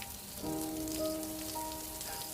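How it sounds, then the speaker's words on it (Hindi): Rain falls steadily on a cold night in a Hindi horror story, a soft continuous hiss under a low sustained musical drone, with no voices. "एकदम से बारिश भी शुरू हो जाती है।"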